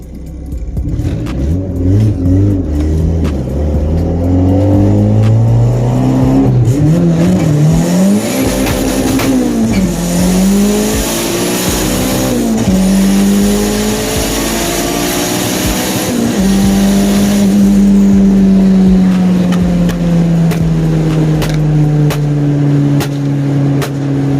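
A car on slick tires revs hard as it accelerates from first gear, pitch climbing through several gear changes, loud and close, then settling into a steady high drone.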